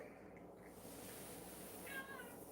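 A cat meows in a kitchen, one short call near the middle amid quiet room noise, close to the listener.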